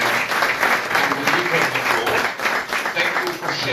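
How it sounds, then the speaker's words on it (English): An audience at a social entrepreneurship event applauds a presenter, steady dense clapping filling the room with a few voices and cheers mixed in. "give a round of applause to"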